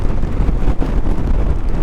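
Strong wind with rain and blowing sand roars and buffets the microphone in a loud, continuous low rumble that barely lets up, near the sand dunes of Nubra Valley, Ladakh.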